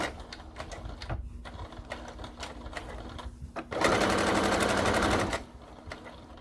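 A sewing machine stitches a quarter-inch seam in a fabric armchair caddy, a steady fast run of about a second and a half that rises loudly over earlier handling noise, then stops.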